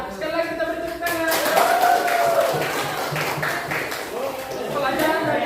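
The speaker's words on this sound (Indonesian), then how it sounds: "Ya, sekali lagi kita beri tepuk tangan." A classroom audience claps during a teaching practice session, a dense wash of clapping running through the whole stretch, with voices talking over it throughout.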